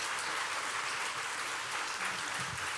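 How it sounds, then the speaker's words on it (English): Audience applause at a school event on digital wellbeing, a steady dense clapping that fills the whole stretch without a pause, fairly loud and even with no voices over it. "Please join me another big round of applause for our digital leaders."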